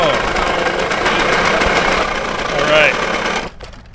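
A cheap adventure motorcycle engine with an exhaust leak runs loudly, giving a rapid, ticking, buzzy chatter that holds steady before cutting off sharply near the end, with people talking over it.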